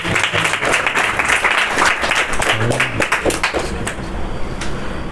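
Evening class audience applauding at a Srimad Bhagavatam reading, a dense, steady patter of many hands clapping close by for about five seconds, with faint voices mixed in.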